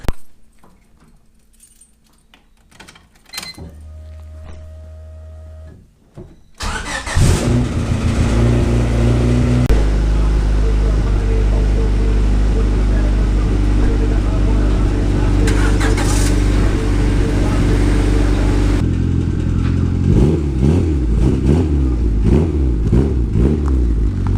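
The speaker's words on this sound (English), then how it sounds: "I just backed my JDM Honda Odyssey out, moved it over there, and backed out the Turbo Civic" A JDM Honda Odyssey and a Turbo Civic, the Civic fitted with drag radials, are backed out of a shed. A loud, continuous engine rumble takes over after a few seconds of clatter and handling noises, then holds steady to the end.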